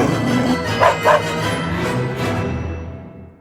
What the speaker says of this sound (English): the dog quickly jumped up and bit him